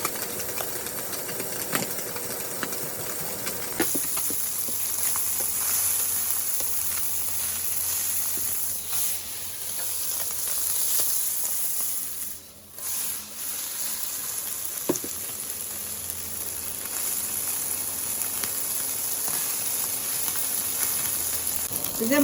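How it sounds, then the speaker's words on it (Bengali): Small mourala fish frying in a pan in a home kitchen: a steady, loud hiss and crackle of oil runs continuously, with brief handling noises and a short dip midway as the fish is turned. "যে মাছটা কিন্তু আমি বেশি ভাজলাম না, একটু একবার উল্টিয়ে নিলাম"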